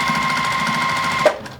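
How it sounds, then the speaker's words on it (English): A sewing machine stitches a seam on a scrap-busting fabric bag in a fast, even mechanical hum with rapid needle clatter, then stops abruptly near the end. "I'm going to just give it a little nice stitch here"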